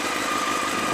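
A loud, continuous engine drone with a rough, throbbing rumble, steady and close, from a motorcycle idling with a loud aftermarket Yoshimura exhaust.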